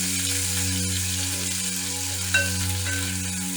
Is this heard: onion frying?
yes